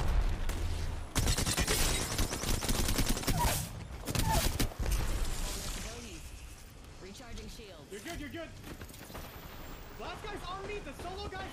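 Gunfire in Apex Legends: dense, loud bursts fill the first half, then fade into quieter game noise while players talk over it.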